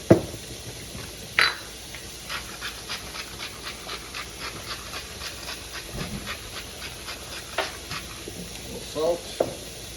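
Ground meat for lasagna sizzles in a hot pan as a utensil breaks it up and pushes it around, a soft steady hiss with scattered scraping clicks and taps, close and moderately quiet.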